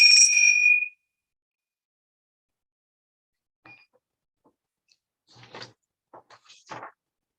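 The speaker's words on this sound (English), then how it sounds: "I would like to introduce and end the poem with Tibetan bells" A single Tibetan bell rings once at a chapel reflection on love, bright and sustained for about a second before cutting off, followed by long quiet with a few faint soft knocks and rustles.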